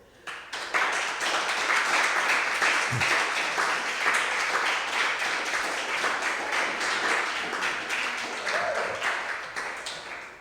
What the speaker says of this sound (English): I get embarrassed by applause.